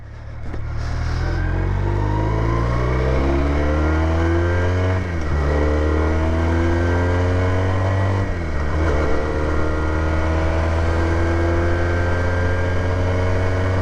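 A Junak M15 125cc motorcycle pulls away on a road, its engine revving hard through rising pitches with two clear gear changes, loud and continuous from up close.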